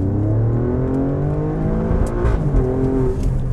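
A 2024 Alfa Romeo Stelvio Quadrifoglio engine revs hard and accelerates, a loud, steady roar with rising pitch close by.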